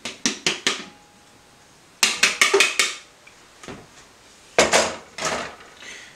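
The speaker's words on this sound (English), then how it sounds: "So we're going to add all of this to the pre-ferment." Ingredients for an onion and tomato bread dough, including hydrated onions, go into a bowl of pre-ferment with sharp, close clattering knocks in quick clusters of three to five, separated by quiet gaps.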